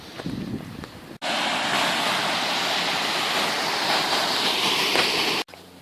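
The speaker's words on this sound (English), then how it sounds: "So I'm going to show you the weir in the river" Water rushing over a weir on a river, a loud steady broadband roar filling most of the stretch, close to the microphone, with wind buffeting at the start and no talking.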